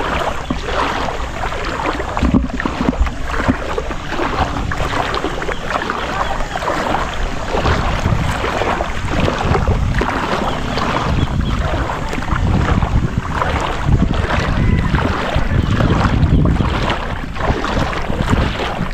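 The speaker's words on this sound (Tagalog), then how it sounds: "Sa gitna mga malaking bangka." Large boats on open water in strong wind, with continuous loud wind buffeting and broad water rush filling the whole stretch without a break.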